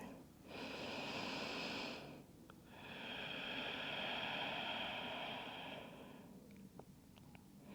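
Slow, deep breaths in a gentle yoga child's pose: two long, soft airy exhales, close and quiet, with a brief pause between them and a faint rustle after.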